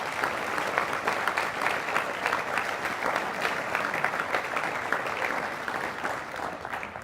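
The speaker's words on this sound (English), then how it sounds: "please join me once again in applauding all of our new Honor Society members" Sustained audience applause for new National Honor Society members at an induction ceremony, a steady, full roomful of clapping that holds evenly throughout before easing slightly at the end.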